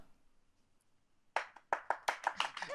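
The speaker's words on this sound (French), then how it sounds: "Oui, applaudissez." Hands clap in a quick run of sharp, close claps after a near-silent start, about a dozen in under two seconds.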